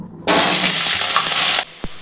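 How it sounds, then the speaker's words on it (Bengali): Potatoes drop into hot oil in a kadai and burst into a loud, steady sizzle lasting just over a second, then cut off sharply, followed by a single soft knock. "কড়াইতে তেল গরম হয়ে গেছে এবার একটু নুন দিয়ে দেবো তারপরে আমি আলুগুলো ভেজে নেব"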